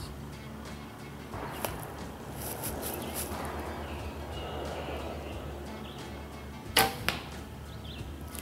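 A single arrow from a bow strikes low into leaves beneath a 3D foam target at an outdoor sportsmen's club archery course, giving one sharp, fairly close thwack after a stretch of quiet outdoor ambience.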